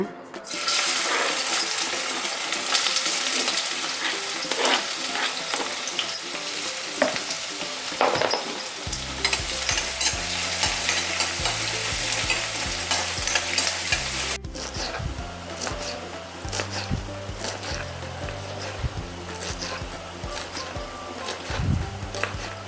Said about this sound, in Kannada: ಇವಾಗ ಎಣ್ಣೆ ಕಾದಿದೆ, ಈರುಳ್ಳಿ ಹಾಕೋಣ.